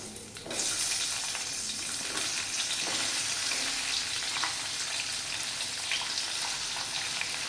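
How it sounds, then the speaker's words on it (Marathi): Onion, cashews, chilli, garlic and ginger frying in oil and ghee for Hyderabadi paneer curry, a loud, dense, continuous sizzle that erupts suddenly and holds steady close by, with no talk. "कांदा काजू मिरची आणि लसूण आणि आलं छान असा ब्राऊन कलर त्याला येईपर्यंत आपण परतून घ्यायचा आहे"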